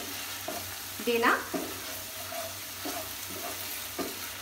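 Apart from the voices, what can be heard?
frying rajma masala in oil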